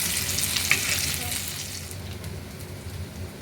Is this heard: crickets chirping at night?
no